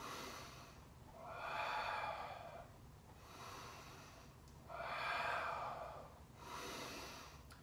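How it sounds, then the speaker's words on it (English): Slow, deep breathing during a balance and abdominal exercise, with two long close inhales and exhales and then a shorter third, each a soft airy rush with quiet gaps between and no talk. "Take three deep breaths."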